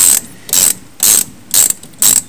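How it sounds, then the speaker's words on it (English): Ratchet wrench on a cheater pipe working a brake bolt on a GM car, five loud, close rapid clicking bursts in a steady back-and-forth rhythm with short pauses between strokes. "When you use a cheater pipe like that for extra leverage, don't just give it all you got"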